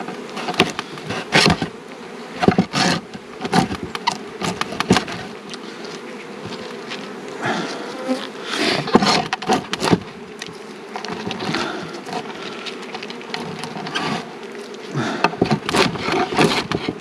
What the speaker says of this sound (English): I'm going to knock the bees off.